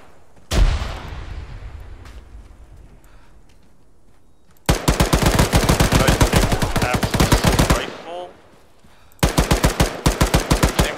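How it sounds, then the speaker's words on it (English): M249 machine gun fire in the ARMA 3 video game: one loud shot with a fading echo, then a long rapid burst, a brief pause, and another sustained burst, all loud and close. "Rifle. Same one you got. It's an M249."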